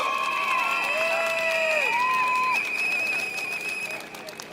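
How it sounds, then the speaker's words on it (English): A crowd at a political rally in an outdoor school setting applauds and cheers, a dense wash of clapping with shouts and whistles, loud and close, fading slightly toward the end. "Let's give him a big applause."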